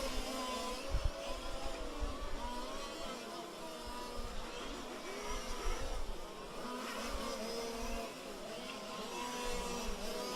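Fifth-scale RC race cars in a Toys for Tots A-main race, buzzing engines running steadily through a chicane, a continuous droning whine with small surges, mid-distance, with speech faintly underneath.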